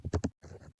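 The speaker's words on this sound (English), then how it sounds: "Okay, so I'm going to be typing" Quick keystrokes on a computer keyboard, a short burst of a few close, sharp clicks followed by a softer patter of keys, separated by brief silent gaps.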